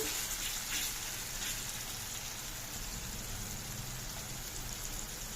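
Gongura chicken cooks in a pan after chili powder and turmeric go in. A soft, steady sizzle crackles quietly throughout, thin and even like light rain.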